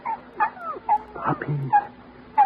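Newborn puppies in a radio drama whimper and yip in a string of short, high, whiny cries, close and fairly loud, with a brief voice in between.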